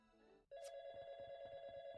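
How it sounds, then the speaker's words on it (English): Telephone ringing in the video game YIIK, a steady electronic ring tone that starts abruptly and repeats in a rapid pulsing pattern, clear and alone over quiet game music. "Phone."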